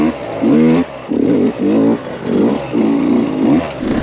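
A 125cc trial motorcycle engine revs in short repeated bursts, throttling up and dropping back several times, close and fairly loud.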